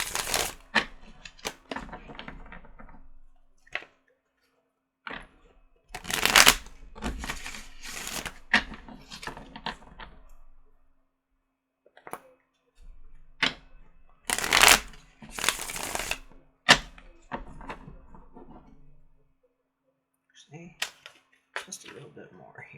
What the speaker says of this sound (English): I have shuffled them profusely between readings